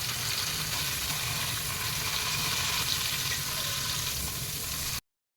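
Butter and cumin seeds sizzle in hot oil in a cooking pot, a steady, close crackling hiss that holds evenly throughout with no talking.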